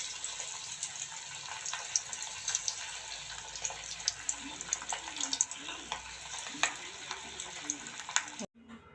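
Chicken pepper kebab paste fries in oil with a close, steady crackling sizzle and scattered pops, then cuts off abruptly near the end; no one speaks.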